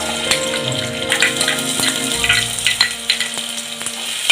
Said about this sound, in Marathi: कांदा थोडा परतून घ्यायचा आहे.